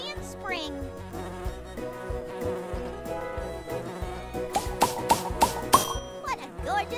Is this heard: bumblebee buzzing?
yes